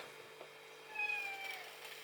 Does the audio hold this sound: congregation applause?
no